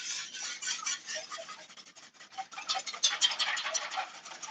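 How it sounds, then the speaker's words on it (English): A whisk scrapes steadily around a bowl, blending a sauce with freshly ground pepper for beans on toast, in a continuous close, fairly quiet rhythmic brushing that runs through the whole stretch without talk. "This is freshly ground pepper. And we're just going to whisk this all together."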